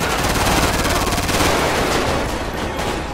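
Loud, rapid automatic gunfire during a GTA 5 bank robbery, dense overlapping bursts sustained for the whole stretch with no pause.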